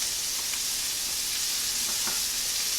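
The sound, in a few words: cabbage frying in a pan with onions and garlic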